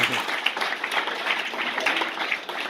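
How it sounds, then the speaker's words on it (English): Applause from the audience at a Celtic young musician competition for judge Iolo Jones, a lively crackle of clapping with distinct hand claps standing out and voices mixed in. "Iolo Jones, is he here? No, he's gone, but give him a big round of applause."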